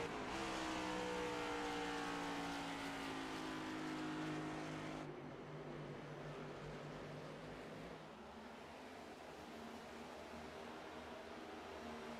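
A race car engine at New Hampshire Motor Speedway in an HVRL Cup Series sim race, loud and steady at first with rising harmonic whine, then dropping to a lower, rougher drone as the throttle is reapplied late.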